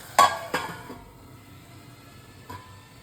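A metal lid clinks down onto a pan of cumin potatoes set over low flame. Two sharp clanks come close together, followed by a softer third tap a moment later.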